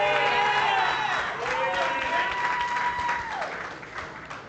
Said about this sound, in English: I want you guys that's in here today to give a round of applause to these young